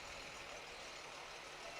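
A fire department tanker truck rolls by in a county Christmas parade, its steady, loud engine rumble and road noise filling the short stretch without pause.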